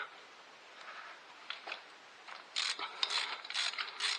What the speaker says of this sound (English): So we're going to go ahead and remove our first spark plug.